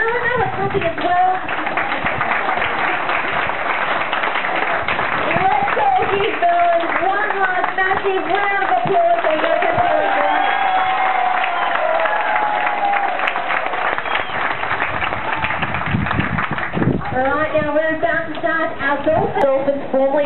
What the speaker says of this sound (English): And the people on that side, Mel and Mel are clapping as well.